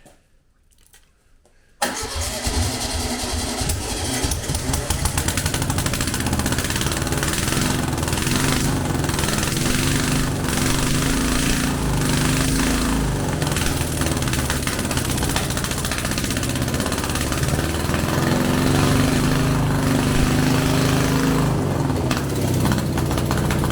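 After a short quiet stretch, an old abandoned air-cooled VW Beetle engine starts and runs continuously, a loud, close, throbbing mid-pitched rumble with a steady rhythmic chug and slight revving swells that hold for about twenty seconds.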